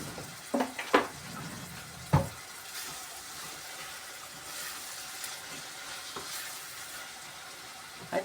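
Onion or vegetables being sautéed and stirred in a pan for a Romanian caraway soup, with a steady low sizzle under a few sharp utensil scrapes and knocks near the start, then a quieter continuous frying hiss.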